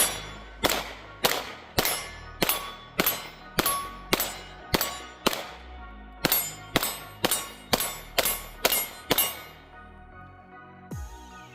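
A Springfield Echelon full-size duty pistol fires about fifteen sharp shots in a quick, even rhythm, each one a loud close crack with a ringing metallic tail, then a pause and a final softer clatter.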